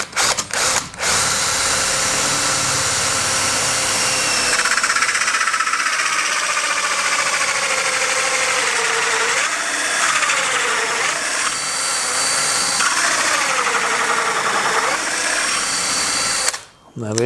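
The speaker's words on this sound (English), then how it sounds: "To do that, I've got myself a hole cutter." Drill fitted with a hole cutter boring a disc out of wood clamped over a sacrificial piece: a loud, steady, close grinding whine that holds for about fifteen seconds, dipping and wavering in pitch as the cutter bites, then stopping abruptly.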